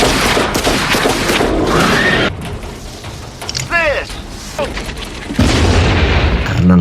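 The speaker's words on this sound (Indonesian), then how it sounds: "Karena ledakan tersebut," Explosions in a giant worm movie scene: a loud booming blast with crackling debris, a quieter stretch with whistling and rumbling, then another heavy rumbling burst at the end.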